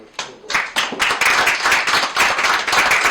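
Audience applause at a Cape Verdean photography contest awards show as musicians are welcomed to the stage: a few separate claps build quickly into steady, dense clapping from a nearby crowd.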